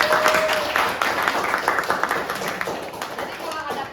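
A classroom claps for a student in a sustained burst of many hands, dense, even and close, with no spoken words over it.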